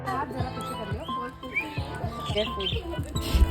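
Birds in a bird park give scattered chirps and tweets that overlap with a busy mix of other rustles and nearby noises through a short stretch.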